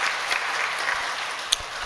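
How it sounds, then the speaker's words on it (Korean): Church congregation applauding in welcome during a Sunday service, a soft, steady patter of many hands heard from a distance with one sharper clap near the end. "우리 박수로 환영하겠습니다"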